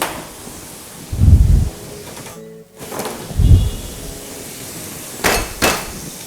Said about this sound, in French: On va hacher de l'ail.